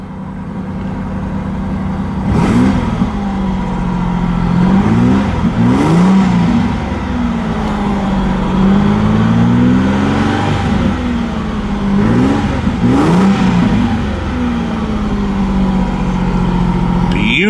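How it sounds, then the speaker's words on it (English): A 2000 Ford Mustang V6 convertible idles steadily, then is revved several times, each rev rising and falling back to idle, loud and close up. "Beautiful sounding engine."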